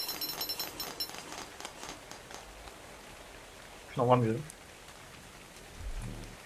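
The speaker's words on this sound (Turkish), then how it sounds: "Şu yağmur dinene kadar" Rain falls in the video game ARK Survival as a soft, steady patter and hiss in the background, with someone speaking briefly over it and a few short game sounds near the end.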